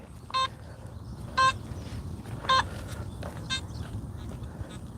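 Four short buzzy electronic tones sound at roughly even intervals over quiet outdoor hiss, a metal detector's iron signal repeating as it sweeps.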